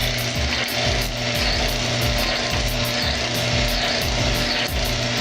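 An oil lubricity test rig grinds metal under heavy load with Mobil SHC 634 synthetic gear oil, producing a loud, continuous mechanical grinding with a steady hum and rhythmic ratcheting pulses.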